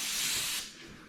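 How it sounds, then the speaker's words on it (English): A short, close burst of brake cleaner spray hisses sharply, then cuts back to a weaker, fading hiss within about a second. "with that brake cleaner, I got to get him good"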